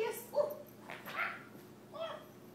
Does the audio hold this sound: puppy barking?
yes